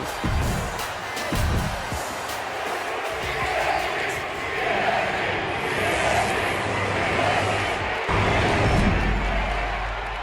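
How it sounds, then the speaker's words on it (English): An arena crowd in the WWE 2K26 wrestling game roars and chants a wrestler's name at SummerSlam before a steel cage match, a continuous loud crowd swell with rhythmic rises and some thumps. "the crowd's still holding some kind of hope for the EST, cheering her name"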